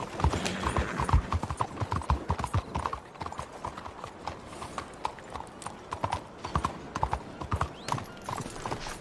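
Horse hooves from Red Dead Redemption 2 pound in a fast, rhythmic clip-clop close by, with brief snorts and a faint whinny mixed in over the steady gallop.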